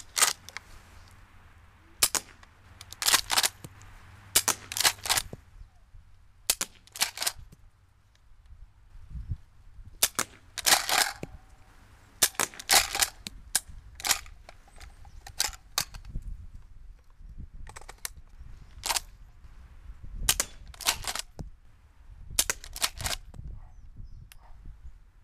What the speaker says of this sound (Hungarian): ezúttal a 20-as BB-fel fogok a célokra lőni